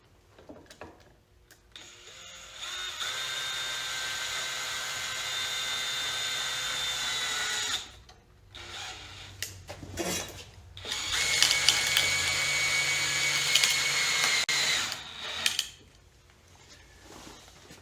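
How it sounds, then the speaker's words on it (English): A drill with a Crescent Vortex bit holder drives screws into a pine board: two long, whining bursts of motor buzz with short pauses and clicks between them, close and fairly loud. "These are the very first screws I've driven with this bit holder."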